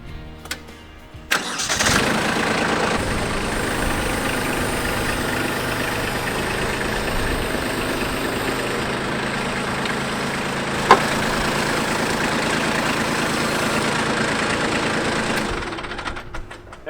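A Kubota B Series compact tractor engine cranks and fires, then runs at a steady, loud idle while backing over a mower deck, with one sharp knock partway through.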